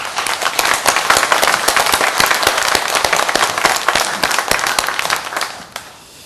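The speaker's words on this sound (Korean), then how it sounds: "우리 하나님께 영광의 박수 올립니다." A Korean church congregation gives a loud round of applause in worship. Many hands clap in sharp, crackling bursts, close and vigorous, then the clapping stops abruptly near the end.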